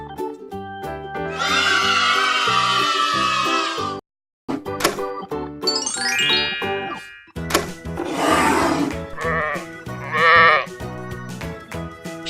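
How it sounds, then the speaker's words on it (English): Toy sheep sound with repeated bleats in bursts, loud and close, broken by a brief silent gap, with other electronic toy tones mixed between the calls. "Sheep."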